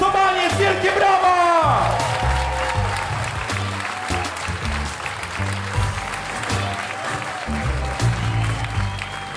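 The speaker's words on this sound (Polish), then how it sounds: "wielkie brawa!" Comedians taking the stage at an improv comedy show are greeted by loud, sustained audience applause with whoops and cheers, while a stage voice carries over the clapping.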